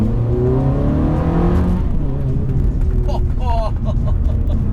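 A Ferrari F430 F1 with stock exhaust roars loudly while driving, climbing in pitch through the gears before easing off, close up, with a voice reacting over it.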